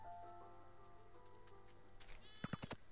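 Sheep bleating in the Minecraft video game, a few short faint bleats near the end over a quiet background with game tones.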